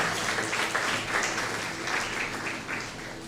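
A church congregation breaks into sustained applause during a Spanish-language sermon, a dense, steady wash of many hands clapping together for several seconds with no talking over it.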